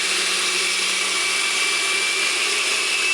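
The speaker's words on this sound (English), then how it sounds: "Allow to blend between 3 minutes on high speed." A blender runs on high speed, blending kiwi fruit and a piece of ginger into a juice drink, with a loud, steady, close whine and no talk.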